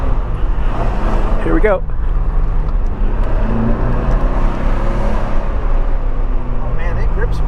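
Interior of a 1985 Porsche 928 S Euro driving and accelerating, a steady loud engine drone throughout, with people talking over it.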